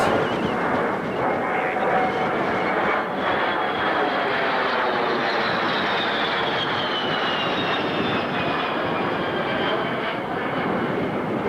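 Roar of an A-10 jet flying in the DCS combat flight simulator game: a loud, steady engine drone with a gliding whine holds throughout, with no gaps or talk.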